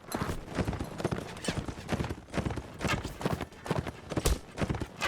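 Horse hooves clip-clopping in the Mount & Blade Warband video game during a battle skirmish, a fast, continuous galloping rhythm that sounds loud and close.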